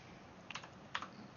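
A few quick keystrokes on a computer keyboard while entering a number into 3D mesh editing software, two crisp close taps about half a second apart over faint room noise.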